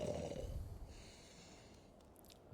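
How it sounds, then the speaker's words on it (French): A character snoring in Assassin's Creed Valhalla, a single faint, rough snort-like breath heard up close that fades into quiet game ambience. "Ça ronfle, hein"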